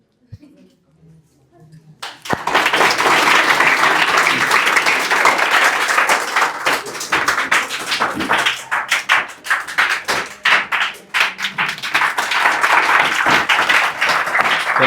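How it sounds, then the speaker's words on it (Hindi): After a quiet moment an audience bursts into loud clapping for rank-holding students at a village coaching-class ceremony, dense at first and then thinning into uneven bursts, with voices chattering through it. "इनके लिए भी आप लोग ताली बजा देंगे।"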